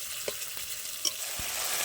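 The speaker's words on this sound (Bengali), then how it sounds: "এবার মশলাটা ভালো করে কষিয়ে নেব।" Cumin and coriander paste frying in a pan, a steady soft sizzle with a few light clicks of a spoon stirring, close and fairly quiet.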